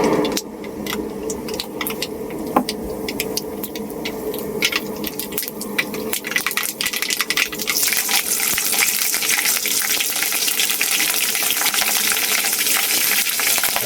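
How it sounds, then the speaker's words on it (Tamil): Mustard seeds and curry leaves fry in hot oil for tempering at the start of a dried fish curry, crackling in sharp pops that grow into a steady loud sizzle. "எண்ணெய், கடுகு, கறிவேப்பிலை, இந்த மிளகா, வரமிளகா இருந்தால் வரமிளகா, பச்சை மிளகா இருந்தால் பச்சை மிளகா, இதெல்லாம் போட்டு ஃபஸ்ட்டு தாளிக்கிறது"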